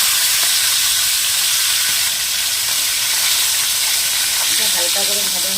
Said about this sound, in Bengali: দেখুন তেলটা গরম হয়ে গেছে। এবার আমি মাছগুলো দিয়ে দেবো ভাজা।